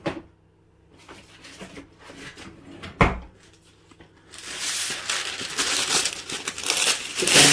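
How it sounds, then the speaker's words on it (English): Sheets of non-stick greaseproof paper crinkle and rustle up close, with a sharp knock midway, then louder, denser crumpling toward the end. "Some non-stick greaseproof paper"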